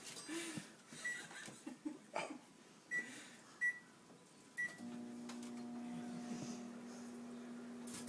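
A microwave oven with grapes inside starts a low, steady hum about halfway through, faint and continuous. Before it, quiet laughter and a few short sharp bursts are heard.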